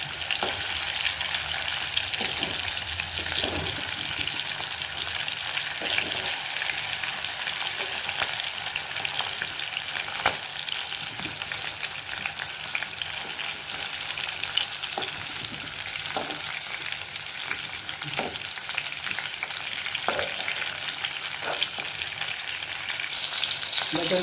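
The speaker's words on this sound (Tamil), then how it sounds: "நல்லா முறுமுறுன்னு அது பொரியணும்" Quail pieces fry steadily in a pan over medium heat, with a continuous close sizzle and occasional crackles and pops throughout.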